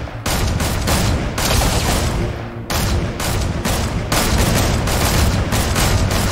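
Gunfire in the video game Fortnite: loud, rapid bursts of shots come in dense clusters separated by brief pauses, close and sharp, with no talking.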